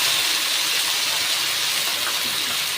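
Ginger and cumin paste hitting tomatoes already frying in a pan, a steady loud broadband hiss and sizzle with no breaks, close and continuous for a few seconds.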